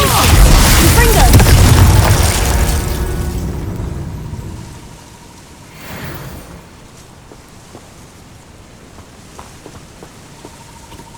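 A Confringo fire spell blast in Hogwarts Legacy: a loud, heavy explosion up front that rumbles and fades over several seconds, followed by a smaller burst and quieter game sounds.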